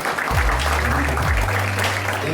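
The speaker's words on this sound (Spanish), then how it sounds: "pido un gran aplauso por haber hecho el esfuerzo de venir desde el Madrid" An audience at an insurance industry conference applauds visiting intermediaries, steady dense clapping under a loud low droning hum that shifts pitch midway.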